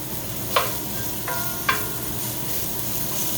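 Onions sizzle in a hot cast iron pan with a steady, hissing fry close by, broken by a few sharp metallic clinks of a utensil against the pan.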